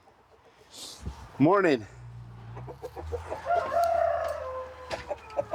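A flock of chickens on a farm clucks softly, with a rooster crowing once loudly and close amid the hens' murmuring, while someone speaks a greeting.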